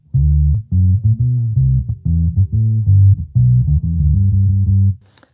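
Bass guitar run through a Sonuus Wahoo dual filter pedal acting as a pitch-tracking enhancer, playing a loud, close line of plucked notes in short phrases.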